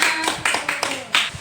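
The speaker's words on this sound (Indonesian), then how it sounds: "Beri tepuk tangan untuk kita semua." Students and a teacher clap their hands in a classroom during a practice teaching lesson, giving a few uneven bursts of close, sharp claps mixed with voices.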